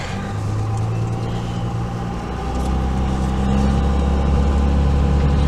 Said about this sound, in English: This does have 5-inch exhaust, so you're going to get that drone and the turbo sound